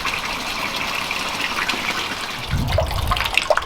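Filter return water splashing into a garden pond fitted with a skimmer, a steady broadband gush throughout that turns heavier and more turbulent near the end, with a few bright drips on top.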